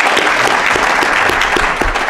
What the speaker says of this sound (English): Let's give a round of applause to this panel.